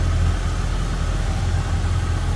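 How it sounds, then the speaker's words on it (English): Original engine of a 1971 Oldsmobile Cutlass Supreme convertible idling smoothly, a steady low rumble close up with no talking. "Again, original engine of this car. Look at how smooth that thing runs."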